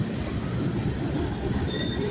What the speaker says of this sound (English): this train bridge is in use.